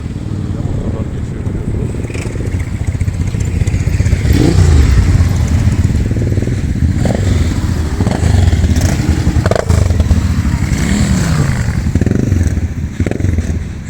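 Loud motorcycle engines rumble and rev nearby at the Alleben stream starting point in Gaziantep, with clattering and voices mixed into the steady roar.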